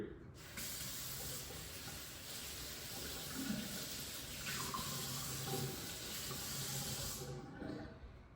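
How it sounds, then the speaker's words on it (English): Tap water runs steadily over a raw collard leaf being rinsed at a kitchen sink, a continuous close hiss and splash lasting several seconds with small shifts as the leaf moves under the stream. "I'm just gonna rinse it first"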